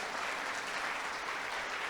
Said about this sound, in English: Somebody give God a hand clap of praise for the word.